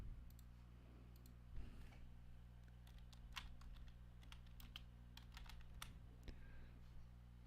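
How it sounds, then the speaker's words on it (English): Quiet keystrokes on a computer keyboard, typed in short irregular bursts over a steady low hum, alone without talk. "I had to just start typing it"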